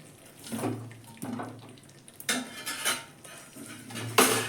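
Potatoes tipped into hot oil in a pan on high flame: bursts of sputtering sizzle mixed with clattering utensil knocks, in uneven waves, fairly quiet and close.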